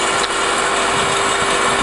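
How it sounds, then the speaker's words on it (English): An MEP Shark 282 SXI EVO semi-automatic double mitre bandsaw clamps and cuts, giving a loud, continuous close-up machine whir with a steady hum throughout. "I'll pull the trigger, it automatically clamps, comes down."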